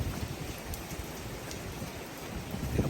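Rain falls steadily outdoors in Thailand's Udon Thani region, a soft even patter on surfaces that stays fairly faint and constant across the short stretch.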